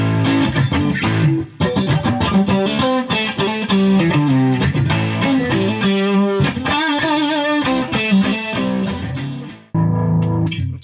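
A Squier Sonic Strat electric guitar played through a compressor and chorus, strummed chords and picked runs ringing loud and close, with brief pauses between phrases.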